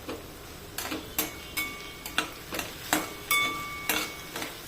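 Potatoes and coarse green chili for sabudana khichdi are sautéed in a pan, heard as a series of sharp, regular scraping and clicking strokes of a spoon against the pan over a soft sizzle.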